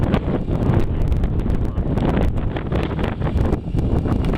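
Strong wind on the summit of Mount Cardigan in spring, a loud, continuous roar buffeting the microphone close up, with gusty rumbling throughout and no voices.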